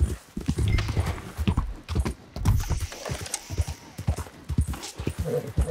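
Horse hoofbeats in Red Dead Redemption 2, a rapid, uneven clip-clop of galloping close by, loud and continuous with a few snorts.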